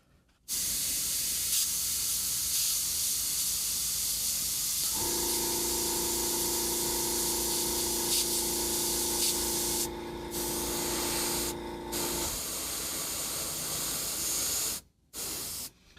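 Steady airbrush hiss spraying paint onto a miniature figure for long stretches, close and loud, with a couple of brief pauses and a faint tonal hum partway through.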